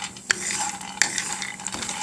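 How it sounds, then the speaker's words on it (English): Food browning in a hot pan on high heat for Vietnamese roasted catfish, stirred with a utensil: steady sizzle with two sharp scrape-clinks against the pan, close and alone with no talk. "And then just keep stirring them around until they start to brown, but not burnt."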